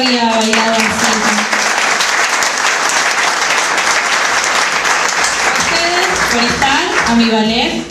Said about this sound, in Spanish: Armel, aplauso grande